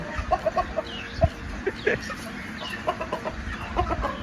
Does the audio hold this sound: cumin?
no